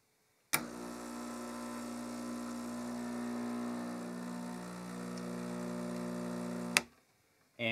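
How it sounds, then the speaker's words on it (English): A Gaggia Classic Pro espresso machine's vibration pump starts abruptly and runs as a steady, loud buzzing hum for about six seconds, then cuts off sharply into silence. "So this is the Gaggia Classic Pro."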